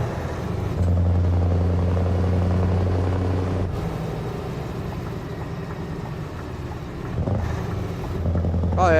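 A Scania truck engine from the video game Euro Truck Simulator 2 drones steadily with a deep low hum that shifts pitch once or twice, heard continuously with no talk.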